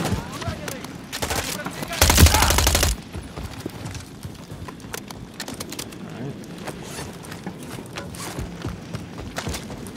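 Gunfire in the Call of Duty MW3 campaign, a loud sustained burst of automatic fire for about a second near the start, followed by scattered quieter shots and game ambience.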